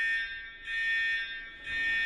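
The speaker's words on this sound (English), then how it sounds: "a 120 decibel alarm had no trouble penetrating the walls and ceiling of my once quiet sanctuary" A 120-decibel fire alarm sounds through a school building, a harsh electronic tone pulsing on and off in long loud blasts, heard alone.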